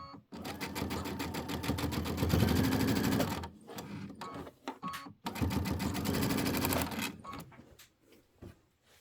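A sewing machine stitches quilted pillow pieces together, running in a steady rapid whir with a brief pause before starting again, then slowing and stopping near the end.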